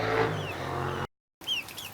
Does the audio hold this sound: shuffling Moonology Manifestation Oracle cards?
no